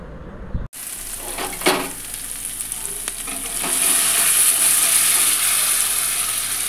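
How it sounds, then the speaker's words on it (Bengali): Cumin, coriander and chili paste sizzle loudly as they are sautéed with onion paste for Bengali-style rajma, with a steady bright frying hiss that swells after a brief silence and occasional stirring scrapes. "এরপরে ওই জিরে ধনে লঙ্কা বাটাটা আমি এর মধ্যে দিয়ে আবার ওটা ভালো করে কষে নেব"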